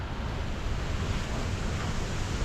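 Strong wind at a sandy beach, with a continuous broadband roar buffeting the microphone and sounding like crashing surf, steady and loud with no voices.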